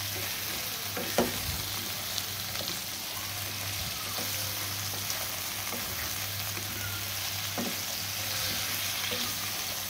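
Pumpkin pieces are stirred into spices frying in a pan, with a steady sizzle under regular spoon scrapes and clicks and a low background hum.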